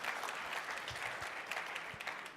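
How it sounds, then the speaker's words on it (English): Applause from an audience at a California governor's race forum, a continuous soft patter of many hands clapping at a distance, fairly faint and even throughout. "An applause, absolutely."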